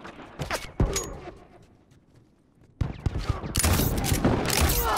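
Rifle gunfire in a video game, a few sharp shots early on, then a lull before a dense burst of rapid, loud firing fills the last seconds.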